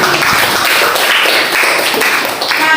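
Classroom applause, a brief round of many hands clapping together at close range, busy and even for nearly three seconds.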